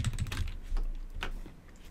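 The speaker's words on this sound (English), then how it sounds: "To type a text, you need to select and start typing." Rapid typing on a computer keyboard, a close run of quick, uneven key clicks with a few louder strikes, heard alone without any talking.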